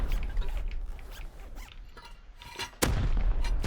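Gunfire from the survival video game Rust: a string of sharp, fairly close shots, with a louder, denser burst near the end.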